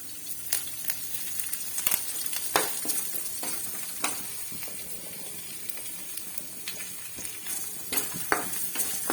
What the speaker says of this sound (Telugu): తాలింపు గింజలు వేసుకోవాలండి.